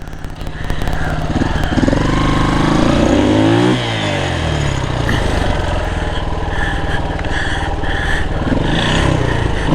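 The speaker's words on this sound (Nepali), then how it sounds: "हेर्नु त गाइज यस्तरी फस्यो बाइक" A motorbike stuck on a rough mountain road revs hard and continuously, its engine note loud and close with rising and falling pitch as the rider struggles to free it.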